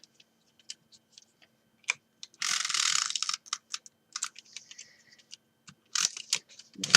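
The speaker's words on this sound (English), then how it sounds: "I'll just put another wee run of tape down that." Sticky tape is pulled off a roll and pressed onto a chocolate box, close and fairly loud, with a ripping burst of unrolling followed by scattered small clicks, taps and short peels.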